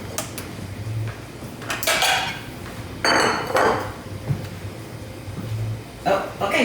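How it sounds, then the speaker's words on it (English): Ceramic plates clatter and clink in a kitchen as they are set out for a Valentine's Day dinner, in several short bursts of knocks and scrapes with a quieter gap between them. "I'll go ahead and get my plates ready."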